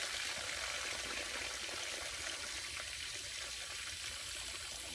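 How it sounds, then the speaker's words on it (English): Water drains out of an opened pool pump as a soft, continuous trickling stream that stays steady and fairly quiet throughout, with no voices. "that's going to let water come out, and it will drain"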